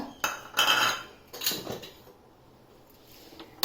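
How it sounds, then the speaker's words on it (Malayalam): A cooking pot is set down on a kitchen stove, giving a few sharp metallic clanks and clatters close by, followed by quieter handling knocks. "ഒരു സിമ്മറിൽ ഒരു പാത്രം വെക്കുക"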